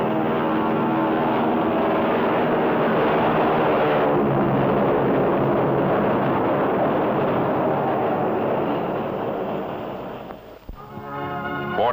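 A propeller-driven airplane flies close overhead with a loud, steady engine drone that holds for several seconds, then fades and dips briefly before picking up again near the end.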